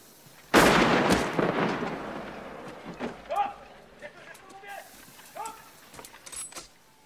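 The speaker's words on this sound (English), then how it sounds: "He's just shooting the people that aren't working fast enough or to his liking." A gunshot from the film Schindler's List rings out loudly, then decays slowly with a long echoing tail, followed by quieter scene sounds while people talk over it.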